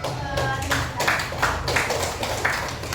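Students in a classroom clap during a computational thinking lesson, rhythmic group clapping in several distinct bursts roughly every half second, close and fairly loud, with a voice speaking over it.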